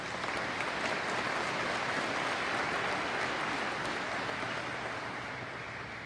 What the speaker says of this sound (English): Please join me in a round of applause for this outstanding team.